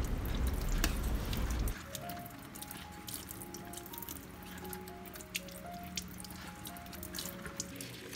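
Water from a kitchen tap runs steadily and drips while mangosteen is peeled under the stream, close and continuous, with small knife and squishy handling sounds over it.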